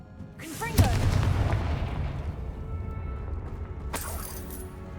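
A Confringo blasting spell in Hogwarts Legacy detonates with a sharp, booming explosion and a crackling, shattering tail, followed moments later by a second burst of bright, crackling magic.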